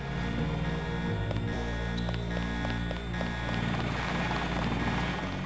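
A helicopter in the video game Deus Ex gives off a constant loud rotor thrum and engine hum. The sound is steady throughout, with no talk over it.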